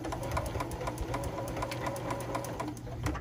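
A home sewing machine backstitches through fabric for makeup remover pads, running in a steady close rhythm with no pauses.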